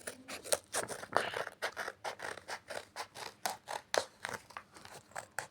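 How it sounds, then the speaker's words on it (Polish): Scissors snipping open a Minecraft package, a close, quick series of about a dozen crisp cutting clicks and crinkly scrapes in an even rhythm. "muszę otworzyć nożyczki, nożyczkami. Obcinamy."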